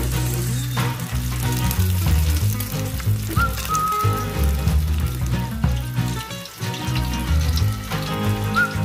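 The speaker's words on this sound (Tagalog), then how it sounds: "Kung malakas ang iyong loob ay pwede mong buhusanin kamukulang mantika ang ating" Lechon kawali, crispy pork, frying in hot oil with a steady, loud crackling sizzle and dense popping throughout, with no voices.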